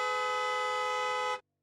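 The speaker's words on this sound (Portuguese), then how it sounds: "De repente, a buzina do carro soa." A long, steady car horn blares at one constant pitch for over a second, then cuts off abruptly into silence.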